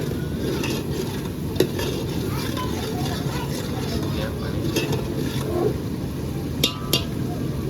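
Crushed garlic sizzles in a hot pan for a homemade shrimp dish, with a constant frying hiss and occasional clinks of a spoon stirring, while a person talks over it.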